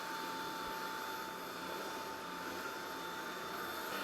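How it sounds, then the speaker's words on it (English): A Powerffy cordless vacuum cleaner on its lowest setting runs over a rug with a steady, even whooshing roar and a faint high whine, unbroken throughout. "It's so powerful, it's vacuuming up my rug."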